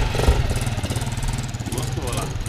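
Motorcycle exhaust with a washer dropped inside, giving a steady rattling, buzzing engine drone that runs loud and close throughout with a slightly pulsing rhythm.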